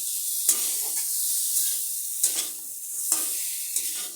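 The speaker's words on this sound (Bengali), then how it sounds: "ছেড়ে দিচ্ছি সব আমার একসাথে ভাজি হয়ে যাবে" Eggs with tomato and green chillies frying together in a pan, a soft sizzle broken by several sharp scraping stirs at irregular intervals, close by and without speech.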